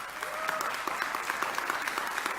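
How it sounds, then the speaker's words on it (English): A conference audience applauds in a steady, moderately loud burst of many hands clapping that lasts the whole time, with a faint voice underneath. "You should applaud yourself."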